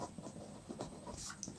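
Math factors are written on a board during a lesson, heard as soft, faint scratches and taps in short strokes, with a few light clicks near the end.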